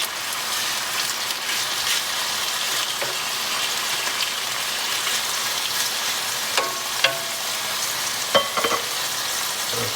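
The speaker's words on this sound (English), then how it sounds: "So we're going to add the seafood." Seafood for a risotto frying in a pan makes a loud, continuous hissing sizzle like heavy rain, with a few occasional clicks and taps from a utensil near the end and no speech.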